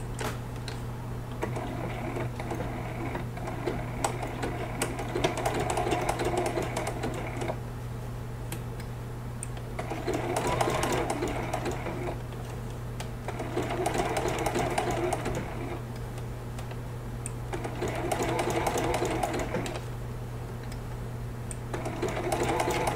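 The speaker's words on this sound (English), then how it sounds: "So let's just jump in here and we're gonna stitch down the eyes." A sewing machine stitches down the eyes of a teddy bear applique on a baby quilt, running in steady bursts of rapid needle chatter separated by brief pauses, close and clear over a constant low hum.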